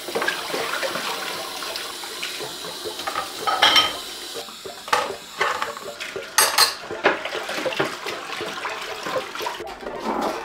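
Dishes being washed and kitchen clutter tidied: repeated clinks and clatters of plates, pots and cutlery with bursts of running tap water, close and fairly loud, no talking.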